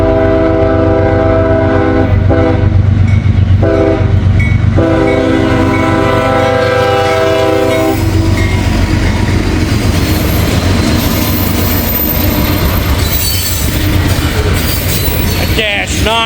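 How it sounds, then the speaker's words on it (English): A CSX Dash 9 locomotive passes close by, loud and continuous, with strong harmonic horn-like tones in the first eight seconds, then rumbling wheels and rail noise that rise and fall as the train rolls through. "That Dash 9 is just spewing out black smoke."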